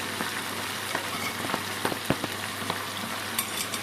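Squid calamares deep-frying in smoking-hot oil, a dense, steady crackling sizzle with scattered sharper pops throughout.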